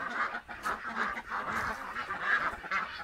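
Ducks at a chicken and duck farm in the Philippines, a continuous overlapping chorus of honking quacks from a flock, fairly close and steady throughout with no talking.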